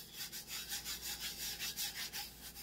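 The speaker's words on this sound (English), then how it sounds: "So you're just rubbing it into the cup." Rhythmic back-and-forth rubbing of glitter into a tumbler cup during burnishing, about a dozen steady strokes, close and clear with no talking.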